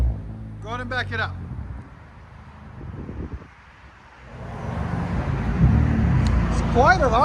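Straight-piped 2020 Nissan Altima SR 2.5L four-cylinder idling as a steady low rumble that swells toward the end, close by, with faint wind and a few brief voices.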